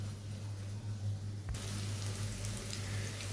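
Onions lightly frying in a pan for chapa shutki bhuna (dried fish curry): a steady sizzle comes in abruptly after a quieter moment with a low hum and continues without talk.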